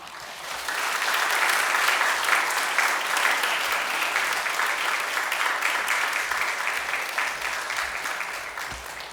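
A church congregation at a Sunday worship service gives a guest warm, sustained applause that swells quickly, holds steady for several seconds and slowly tapers off.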